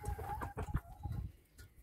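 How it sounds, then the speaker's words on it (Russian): Hens in a backyard poultry house give a run of close, uneven clucks with soft murmuring calls in between. No voices are heard over the birds. "наши куры"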